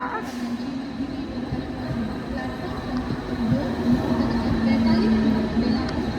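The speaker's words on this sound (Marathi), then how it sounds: "चला आता आमची ट्रेन आली" A train rumbles into a station platform in Mumbai with a steady roar that swells louder, a tonal whine running through it, and faint voices in the background.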